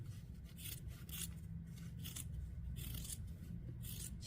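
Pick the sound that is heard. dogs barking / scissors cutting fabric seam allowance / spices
scissors cutting fabric seam allowance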